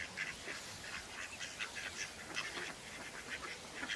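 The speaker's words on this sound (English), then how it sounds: "What do you think, ducks? Eh? You're wanting feeding, aren't you?" Ducks quacking in a faint, busy chorus as they gather hoping to be fed, repeated nasal calls overlapping without pause and no talking.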